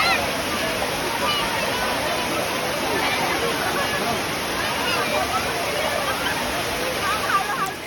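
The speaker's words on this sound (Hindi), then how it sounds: "ऊपर वाली साइड जहाँ पे एक्चुअल वाटरफॉल हो रहा था" The Kundmala waterfall near Pune roars as a constant, dense rush of falling water, with faint crowd babble mixed into the steady wash throughout.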